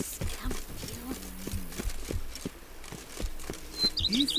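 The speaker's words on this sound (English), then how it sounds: "Even a horse drops if you ride it at a constant gallop." Hooves of a galloping horse in the video game The Witcher 3 patter in a quick, steady rhythm at moderate level, with faint chirps of ambient birds.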